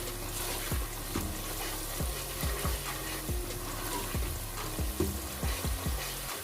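Ground dried coriander is stirred into a sizzling masala in a pan for daal mash, with a steady frying hiss broken by repeated spoon scrapes and knocks against the pan.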